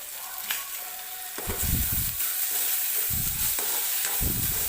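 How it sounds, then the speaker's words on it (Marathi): Onion frying with cumin seeds in a pan sizzles steadily, with a few louder bursts of stirring scrapes spaced through the short stretch, close and clear with no talking. "मी हा कांदा परत एकदा व्यवस्थित भाजून घेते"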